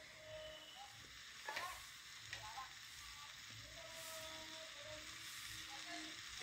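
Chicken curry being stirred in a pan, a steady low sizzle with a few brief scraping knocks of the utensil, faint voices and tones in the background.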